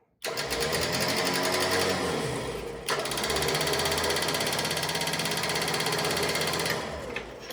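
An electric winch mounted on an old off-road truck runs with a loud, steady mechanical whir and a fast ticking click, then cuts off near the end.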